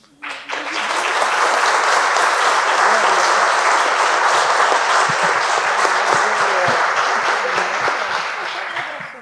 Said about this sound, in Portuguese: Então, só para nomeá-las e pedir uma salva de palmas.